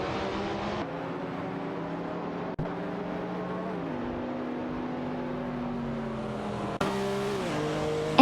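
Race cars in a video game, among them a Dower 962 LM and a Ferrari i40 LM, roar with sustained engine tones that rise and fall through gear shifts, with brief sharp transients from other cars; no one talks.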